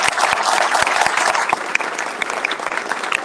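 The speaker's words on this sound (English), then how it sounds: "Can we get a round of applause?" Loud, close applause from a crowd at a county commissioner candidate forum after a debate ends, dense rapid clapping with a few distinct sharp claps, sustained throughout.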